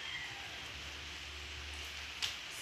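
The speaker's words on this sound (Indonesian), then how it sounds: "Masih hujan dari tadi." Steady rainfall with a soft, continuous hiss throughout and a faint low rumble underneath, heard during a Raya and Gawai barbecue gathering at a villa, with no talking.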